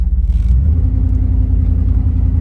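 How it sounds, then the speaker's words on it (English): Steady low rumble and whooshing air inside a moving 1990 GMC Jimmy with a wing window open, a continuous buffeting drone with no voices. "fan noise is from the wing window over there open"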